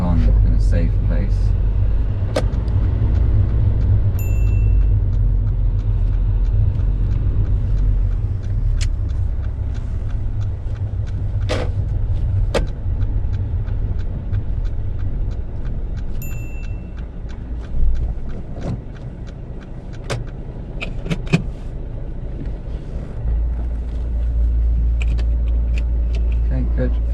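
Inside a car on a UK driving test as it pulls over and parks behind another car: a steady low engine and road rumble with faint clicks and rattles, easing slightly as the vehicle slows.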